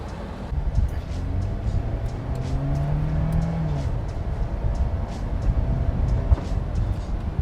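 A used car's engine hums steadily while driving at about 40 mph, with road noise and a brief rising whine partway through, close and continuous.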